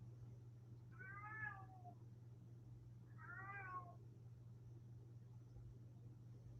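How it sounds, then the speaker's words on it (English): A cat meows outside a door, two drawn-out, wavering calls a couple of seconds apart that sound muffled and somewhat distant over a constant low hum. "there's a cat outside the door"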